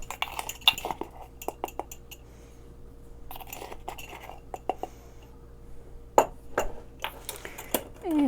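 Faint metallic clinks and scattered clicks of cutlery being rummaged through for a tablespoon in a kitchen while making waffles, sparse and close, with soft pauses between.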